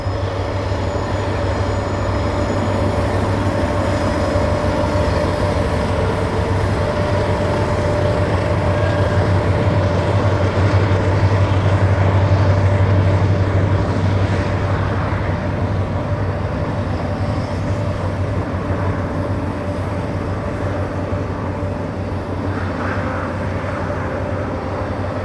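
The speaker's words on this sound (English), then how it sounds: "the train enters the first loop" Locomotives haul a train climbing through the loops on the line toward Asheville Yard, a loud, continuous rumble of engines and rolling wheels that swells slightly midway and stays steady throughout.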